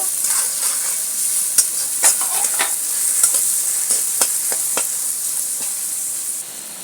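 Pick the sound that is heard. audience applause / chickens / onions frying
onions frying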